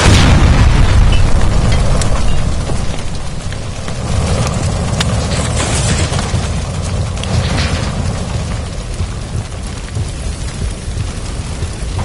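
A gas line blows up in a video game after being shot, a heavy boom opening into a long, dense roar of rumbling debris and crackle that fades slightly but keeps going, loud and close.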